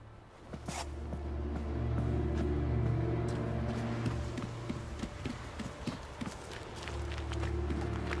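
Horse hooves clip-clop in The Witcher 3 video game, a series of irregular hoof strikes over a steady bed of ambient game music and background tone, moderately close.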